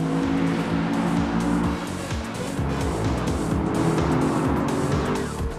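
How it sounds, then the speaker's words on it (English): An Audi R8 sports car drives hard, its engine revving up and down through rapid gear changes with tire noise, loud and continuous throughout. "Driving the Audi R8, the passion of motorsport for the road."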